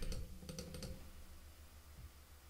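Rapid computer mouse clicks while working in Cricut Design Space: a quick cluster of sharp, close clicks early on, then quieter desk noise and a faint low hum.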